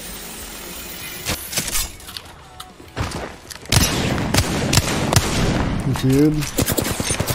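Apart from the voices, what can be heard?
gunfire in video game Apex Legends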